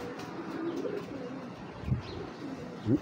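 Racing pigeons giving soft, low coos, close by and faint, with a couple of short louder coos standing out against a quiet background.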